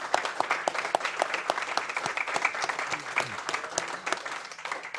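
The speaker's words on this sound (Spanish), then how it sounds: "Aplausos." An audience at a televised debate on Venezuela breaks into steady applause, a sustained patter of many hands clapping at moderate volume for the full stretch, without talk.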